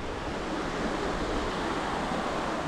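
Rushing river water on the Sieg during a kayak trip from Altorf to Hennef, a steady broadband wash with no pauses, loud and close throughout.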